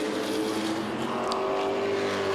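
Late model race cars roar around Waterford Speedbowl during the Late Model Finale 100, a dense, continuous engine drone of several cars at speed with a faint passing swell, loud and steady throughout.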